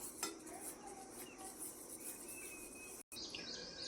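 Custard powder is stirred into water in a vessel, giving faint scraping and clinking of a spoon against the container, close by, with soft background noise and brief high chirps.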